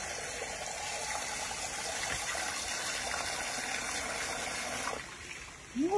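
Water gushes steadily from a tap or hose in a home kitchen, a continuous rushing flow poured over a hot pot to cool it, cutting off near the end with a brief clatter.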